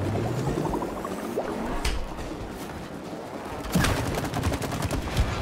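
Rapid shooting at targets in It Takes Two, with fast repeated shots over a busy game background, a denser burst breaking out toward the end.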